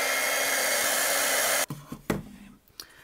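A heat tool blows hot air to melt clear embossing powder on a rubber-stamped image, a steady loud whooshing hum for about a second and a half that cuts off abruptly, followed by a few soft knocks and clicks.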